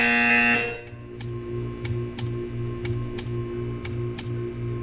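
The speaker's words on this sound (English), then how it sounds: "You will hear a buzzer." A loud electronic tone cuts off in Portal 2, leaving a low, rhythmic buzzer pulsing steadily with regular clicking ticks.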